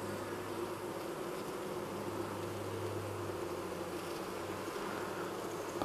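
Honeybees in an open beehive, opened for splitting the colony, give a soft continuous buzzing hum, close and steady, without speech.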